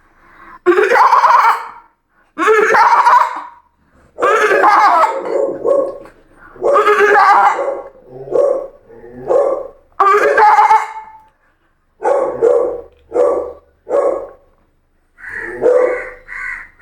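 A mimic on stage voices a goat's bleating, a series of loud, wavering cries in separate bursts with short pauses between, performed alone and close to the microphone.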